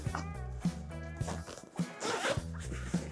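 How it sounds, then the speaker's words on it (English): The zipper of a pocket on a Wildhorn Big Mesa bike bag is pulled open in a few close, scratchy rasping strokes with small fabric rustles. "but you can unzip this pocket"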